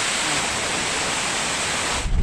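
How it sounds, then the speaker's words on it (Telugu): Water pouring and rushing at Jhari Waterfalls near Chikmagalur, Karnataka, a dense steady roar with no voices, easing off just at the very end. "అక్కడ నుంచి వాటర్ ఇక్కడ నుంచి వెళ్తున్నాయి. Like this flow is going on."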